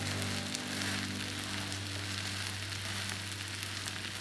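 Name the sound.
zucchini pancake (hobak jeon) frying in a pan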